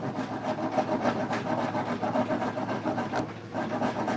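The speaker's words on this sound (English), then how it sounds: "it's all because I've got this rasp" Steady coarse rasping of a wood rasp scraping back and forth while carving a shoe heel, close and continuous with a rhythmic rubbing texture, no voices.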